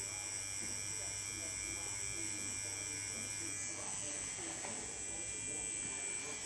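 A tattoo machine buzzes steadily and close, a continuous electric drone with a faint hum underneath while someone talks.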